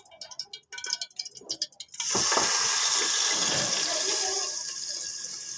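Jaggery syrup poured into a cooking pot on the stove, a steady close liquid splash and hiss that starts abruptly after some handling clatter and runs on for several seconds.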